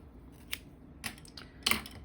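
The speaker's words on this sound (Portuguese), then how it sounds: "Eu vou cortar esse fio." Scissors snipping crochet yarn, three quiet crisp clicks spaced about half a second apart, close and alone against a faint background.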